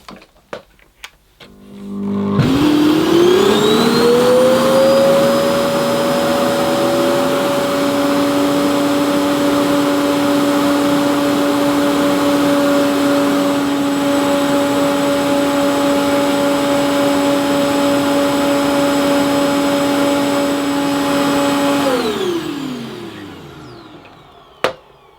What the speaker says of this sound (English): It really is an unpleasant sounding vacuum,